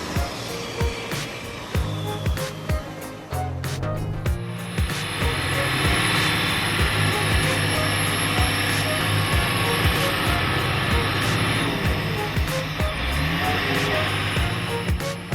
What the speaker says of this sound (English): Engines roar like thunder as three steel machines follow each other like a battle train charging into war.